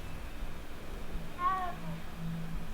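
A cat in the video game Hogwarts Legacy gives one short, faint meow midway, partly masked by a steady low background hum.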